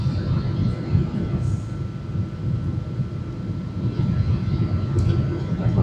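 Airplane engine noise heard from a seat beside the wing during landing on a flight into Malaysia, a loud continuous low roar and rumble filling the cabin without break.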